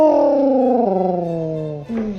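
A dog lets out one drawn-out, wavering howl that slides downward in pitch, close and clear, ending in a short yip.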